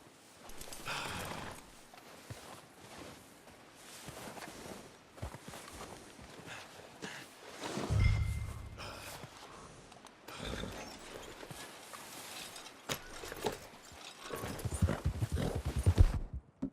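Horse hooves clip-clop at a steady walking pace in Red Dead Redemption 2, fairly soft and continuous, growing louder and busier near the end.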